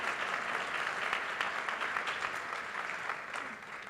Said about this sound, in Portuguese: Palmas para ele também, gente.